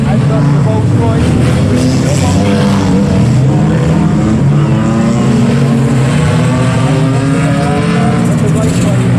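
Racing cars, a Rolls Royce among them, roar around a raceway in a steady, loud engine drone, with a commentator talking over the noise throughout.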